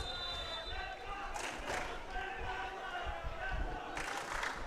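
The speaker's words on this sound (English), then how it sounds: "It kind of sounds like the Manila Digger team's leading that Stallion cheer." Fans at a Philippines Football League match between Kaya-Iloilo and Stallion Laguna raise a distant rhythmic team cheer with crowd noise, heard under steady commentary.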